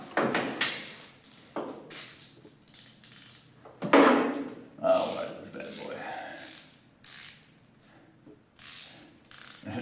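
A ratchet wrench with a 5/8 inch socket turns a bolt on a C3 Corvette, giving repeated close ratcheting clicks in uneven bursts separated by short pauses, with metallic clanks.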